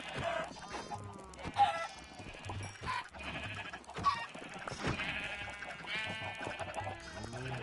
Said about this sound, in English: This one's not a chicken, it's a duck.